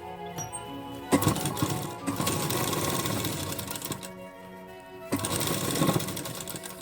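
A sewing machine stitching a blouse runs in close, loud bursts of rapid mechanical chatter, pausing briefly between runs of a few seconds each.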